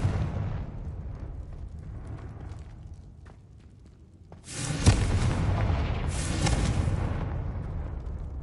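Confringo fire spell blasting in the Hogwarts Legacy video game: two loud booming explosions in close succession follow a quieter stretch of low ambient rumble, each burst sharp and roaring with a long rolling tail.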